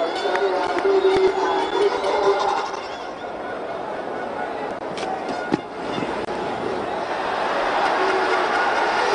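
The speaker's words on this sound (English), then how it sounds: "the crowd enjoying it" Cricket crowd at Providence cheering a big hit, a broad sustained roar of many voices at a distance, dipping briefly in the middle with a sharp knock, then swelling again.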